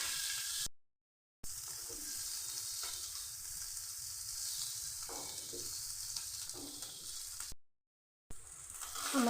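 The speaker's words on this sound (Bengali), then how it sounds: "এভাবে নেড়ে লাল লাল করে আমি ভেজে নেব।" Taro (arum) pieces with salt and turmeric frying in oil, a soft steady sizzle with occasional stirring scrapes, broken by two brief silent gaps.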